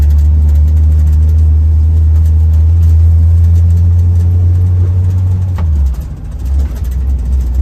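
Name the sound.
1969 Jeep Jeepster engine driving in third gear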